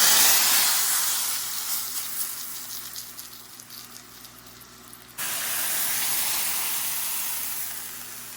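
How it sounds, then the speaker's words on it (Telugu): Hot tempering poured into a bottle gourd dal stew bursts into a loud sizzle that fades over several seconds, then a fresh steady hiss of spattering returns until the end. "ఆనపకాయ ముక్కల పప్పుచారులో ఇప్పుడు తాలింపు వేస్తున్నాను చూడండి"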